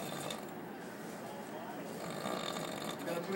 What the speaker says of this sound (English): this dude can snore going in and out